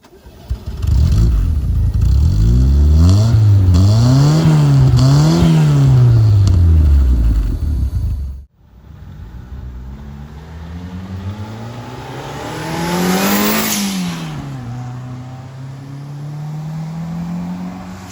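A turbocharged Fiat Uno Mille engine revs hard in repeated rising and falling blips, loud and close, then cuts off and rebuilds in a single longer swelling rev that settles back to idle.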